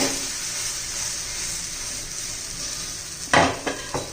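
A rava besan chilla fries in oil on a pan with a soft, steady sizzle, then a few sharp spatula scrapes and knocks against the pan near the end.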